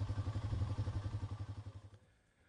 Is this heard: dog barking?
no